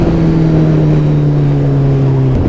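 A Suzuki Hayabusa motorcycle engine drones loud and close with a steady low rumble, then the pitch drops slightly near the end, with no voices.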